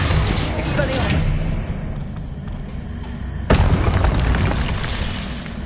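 Confringo blasting spell explosions in the Hogwarts Legacy video game, dense booming blasts that rumble continuously, a fresh loud burst landing midway, with a voice calling over them.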